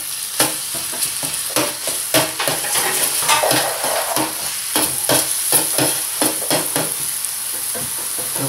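Garlic sautés in hot oil in a pan for ginataang alimasag, with steady sizzling broken by repeated stirring and scraping strokes of a utensil, close and fairly loud with no talking.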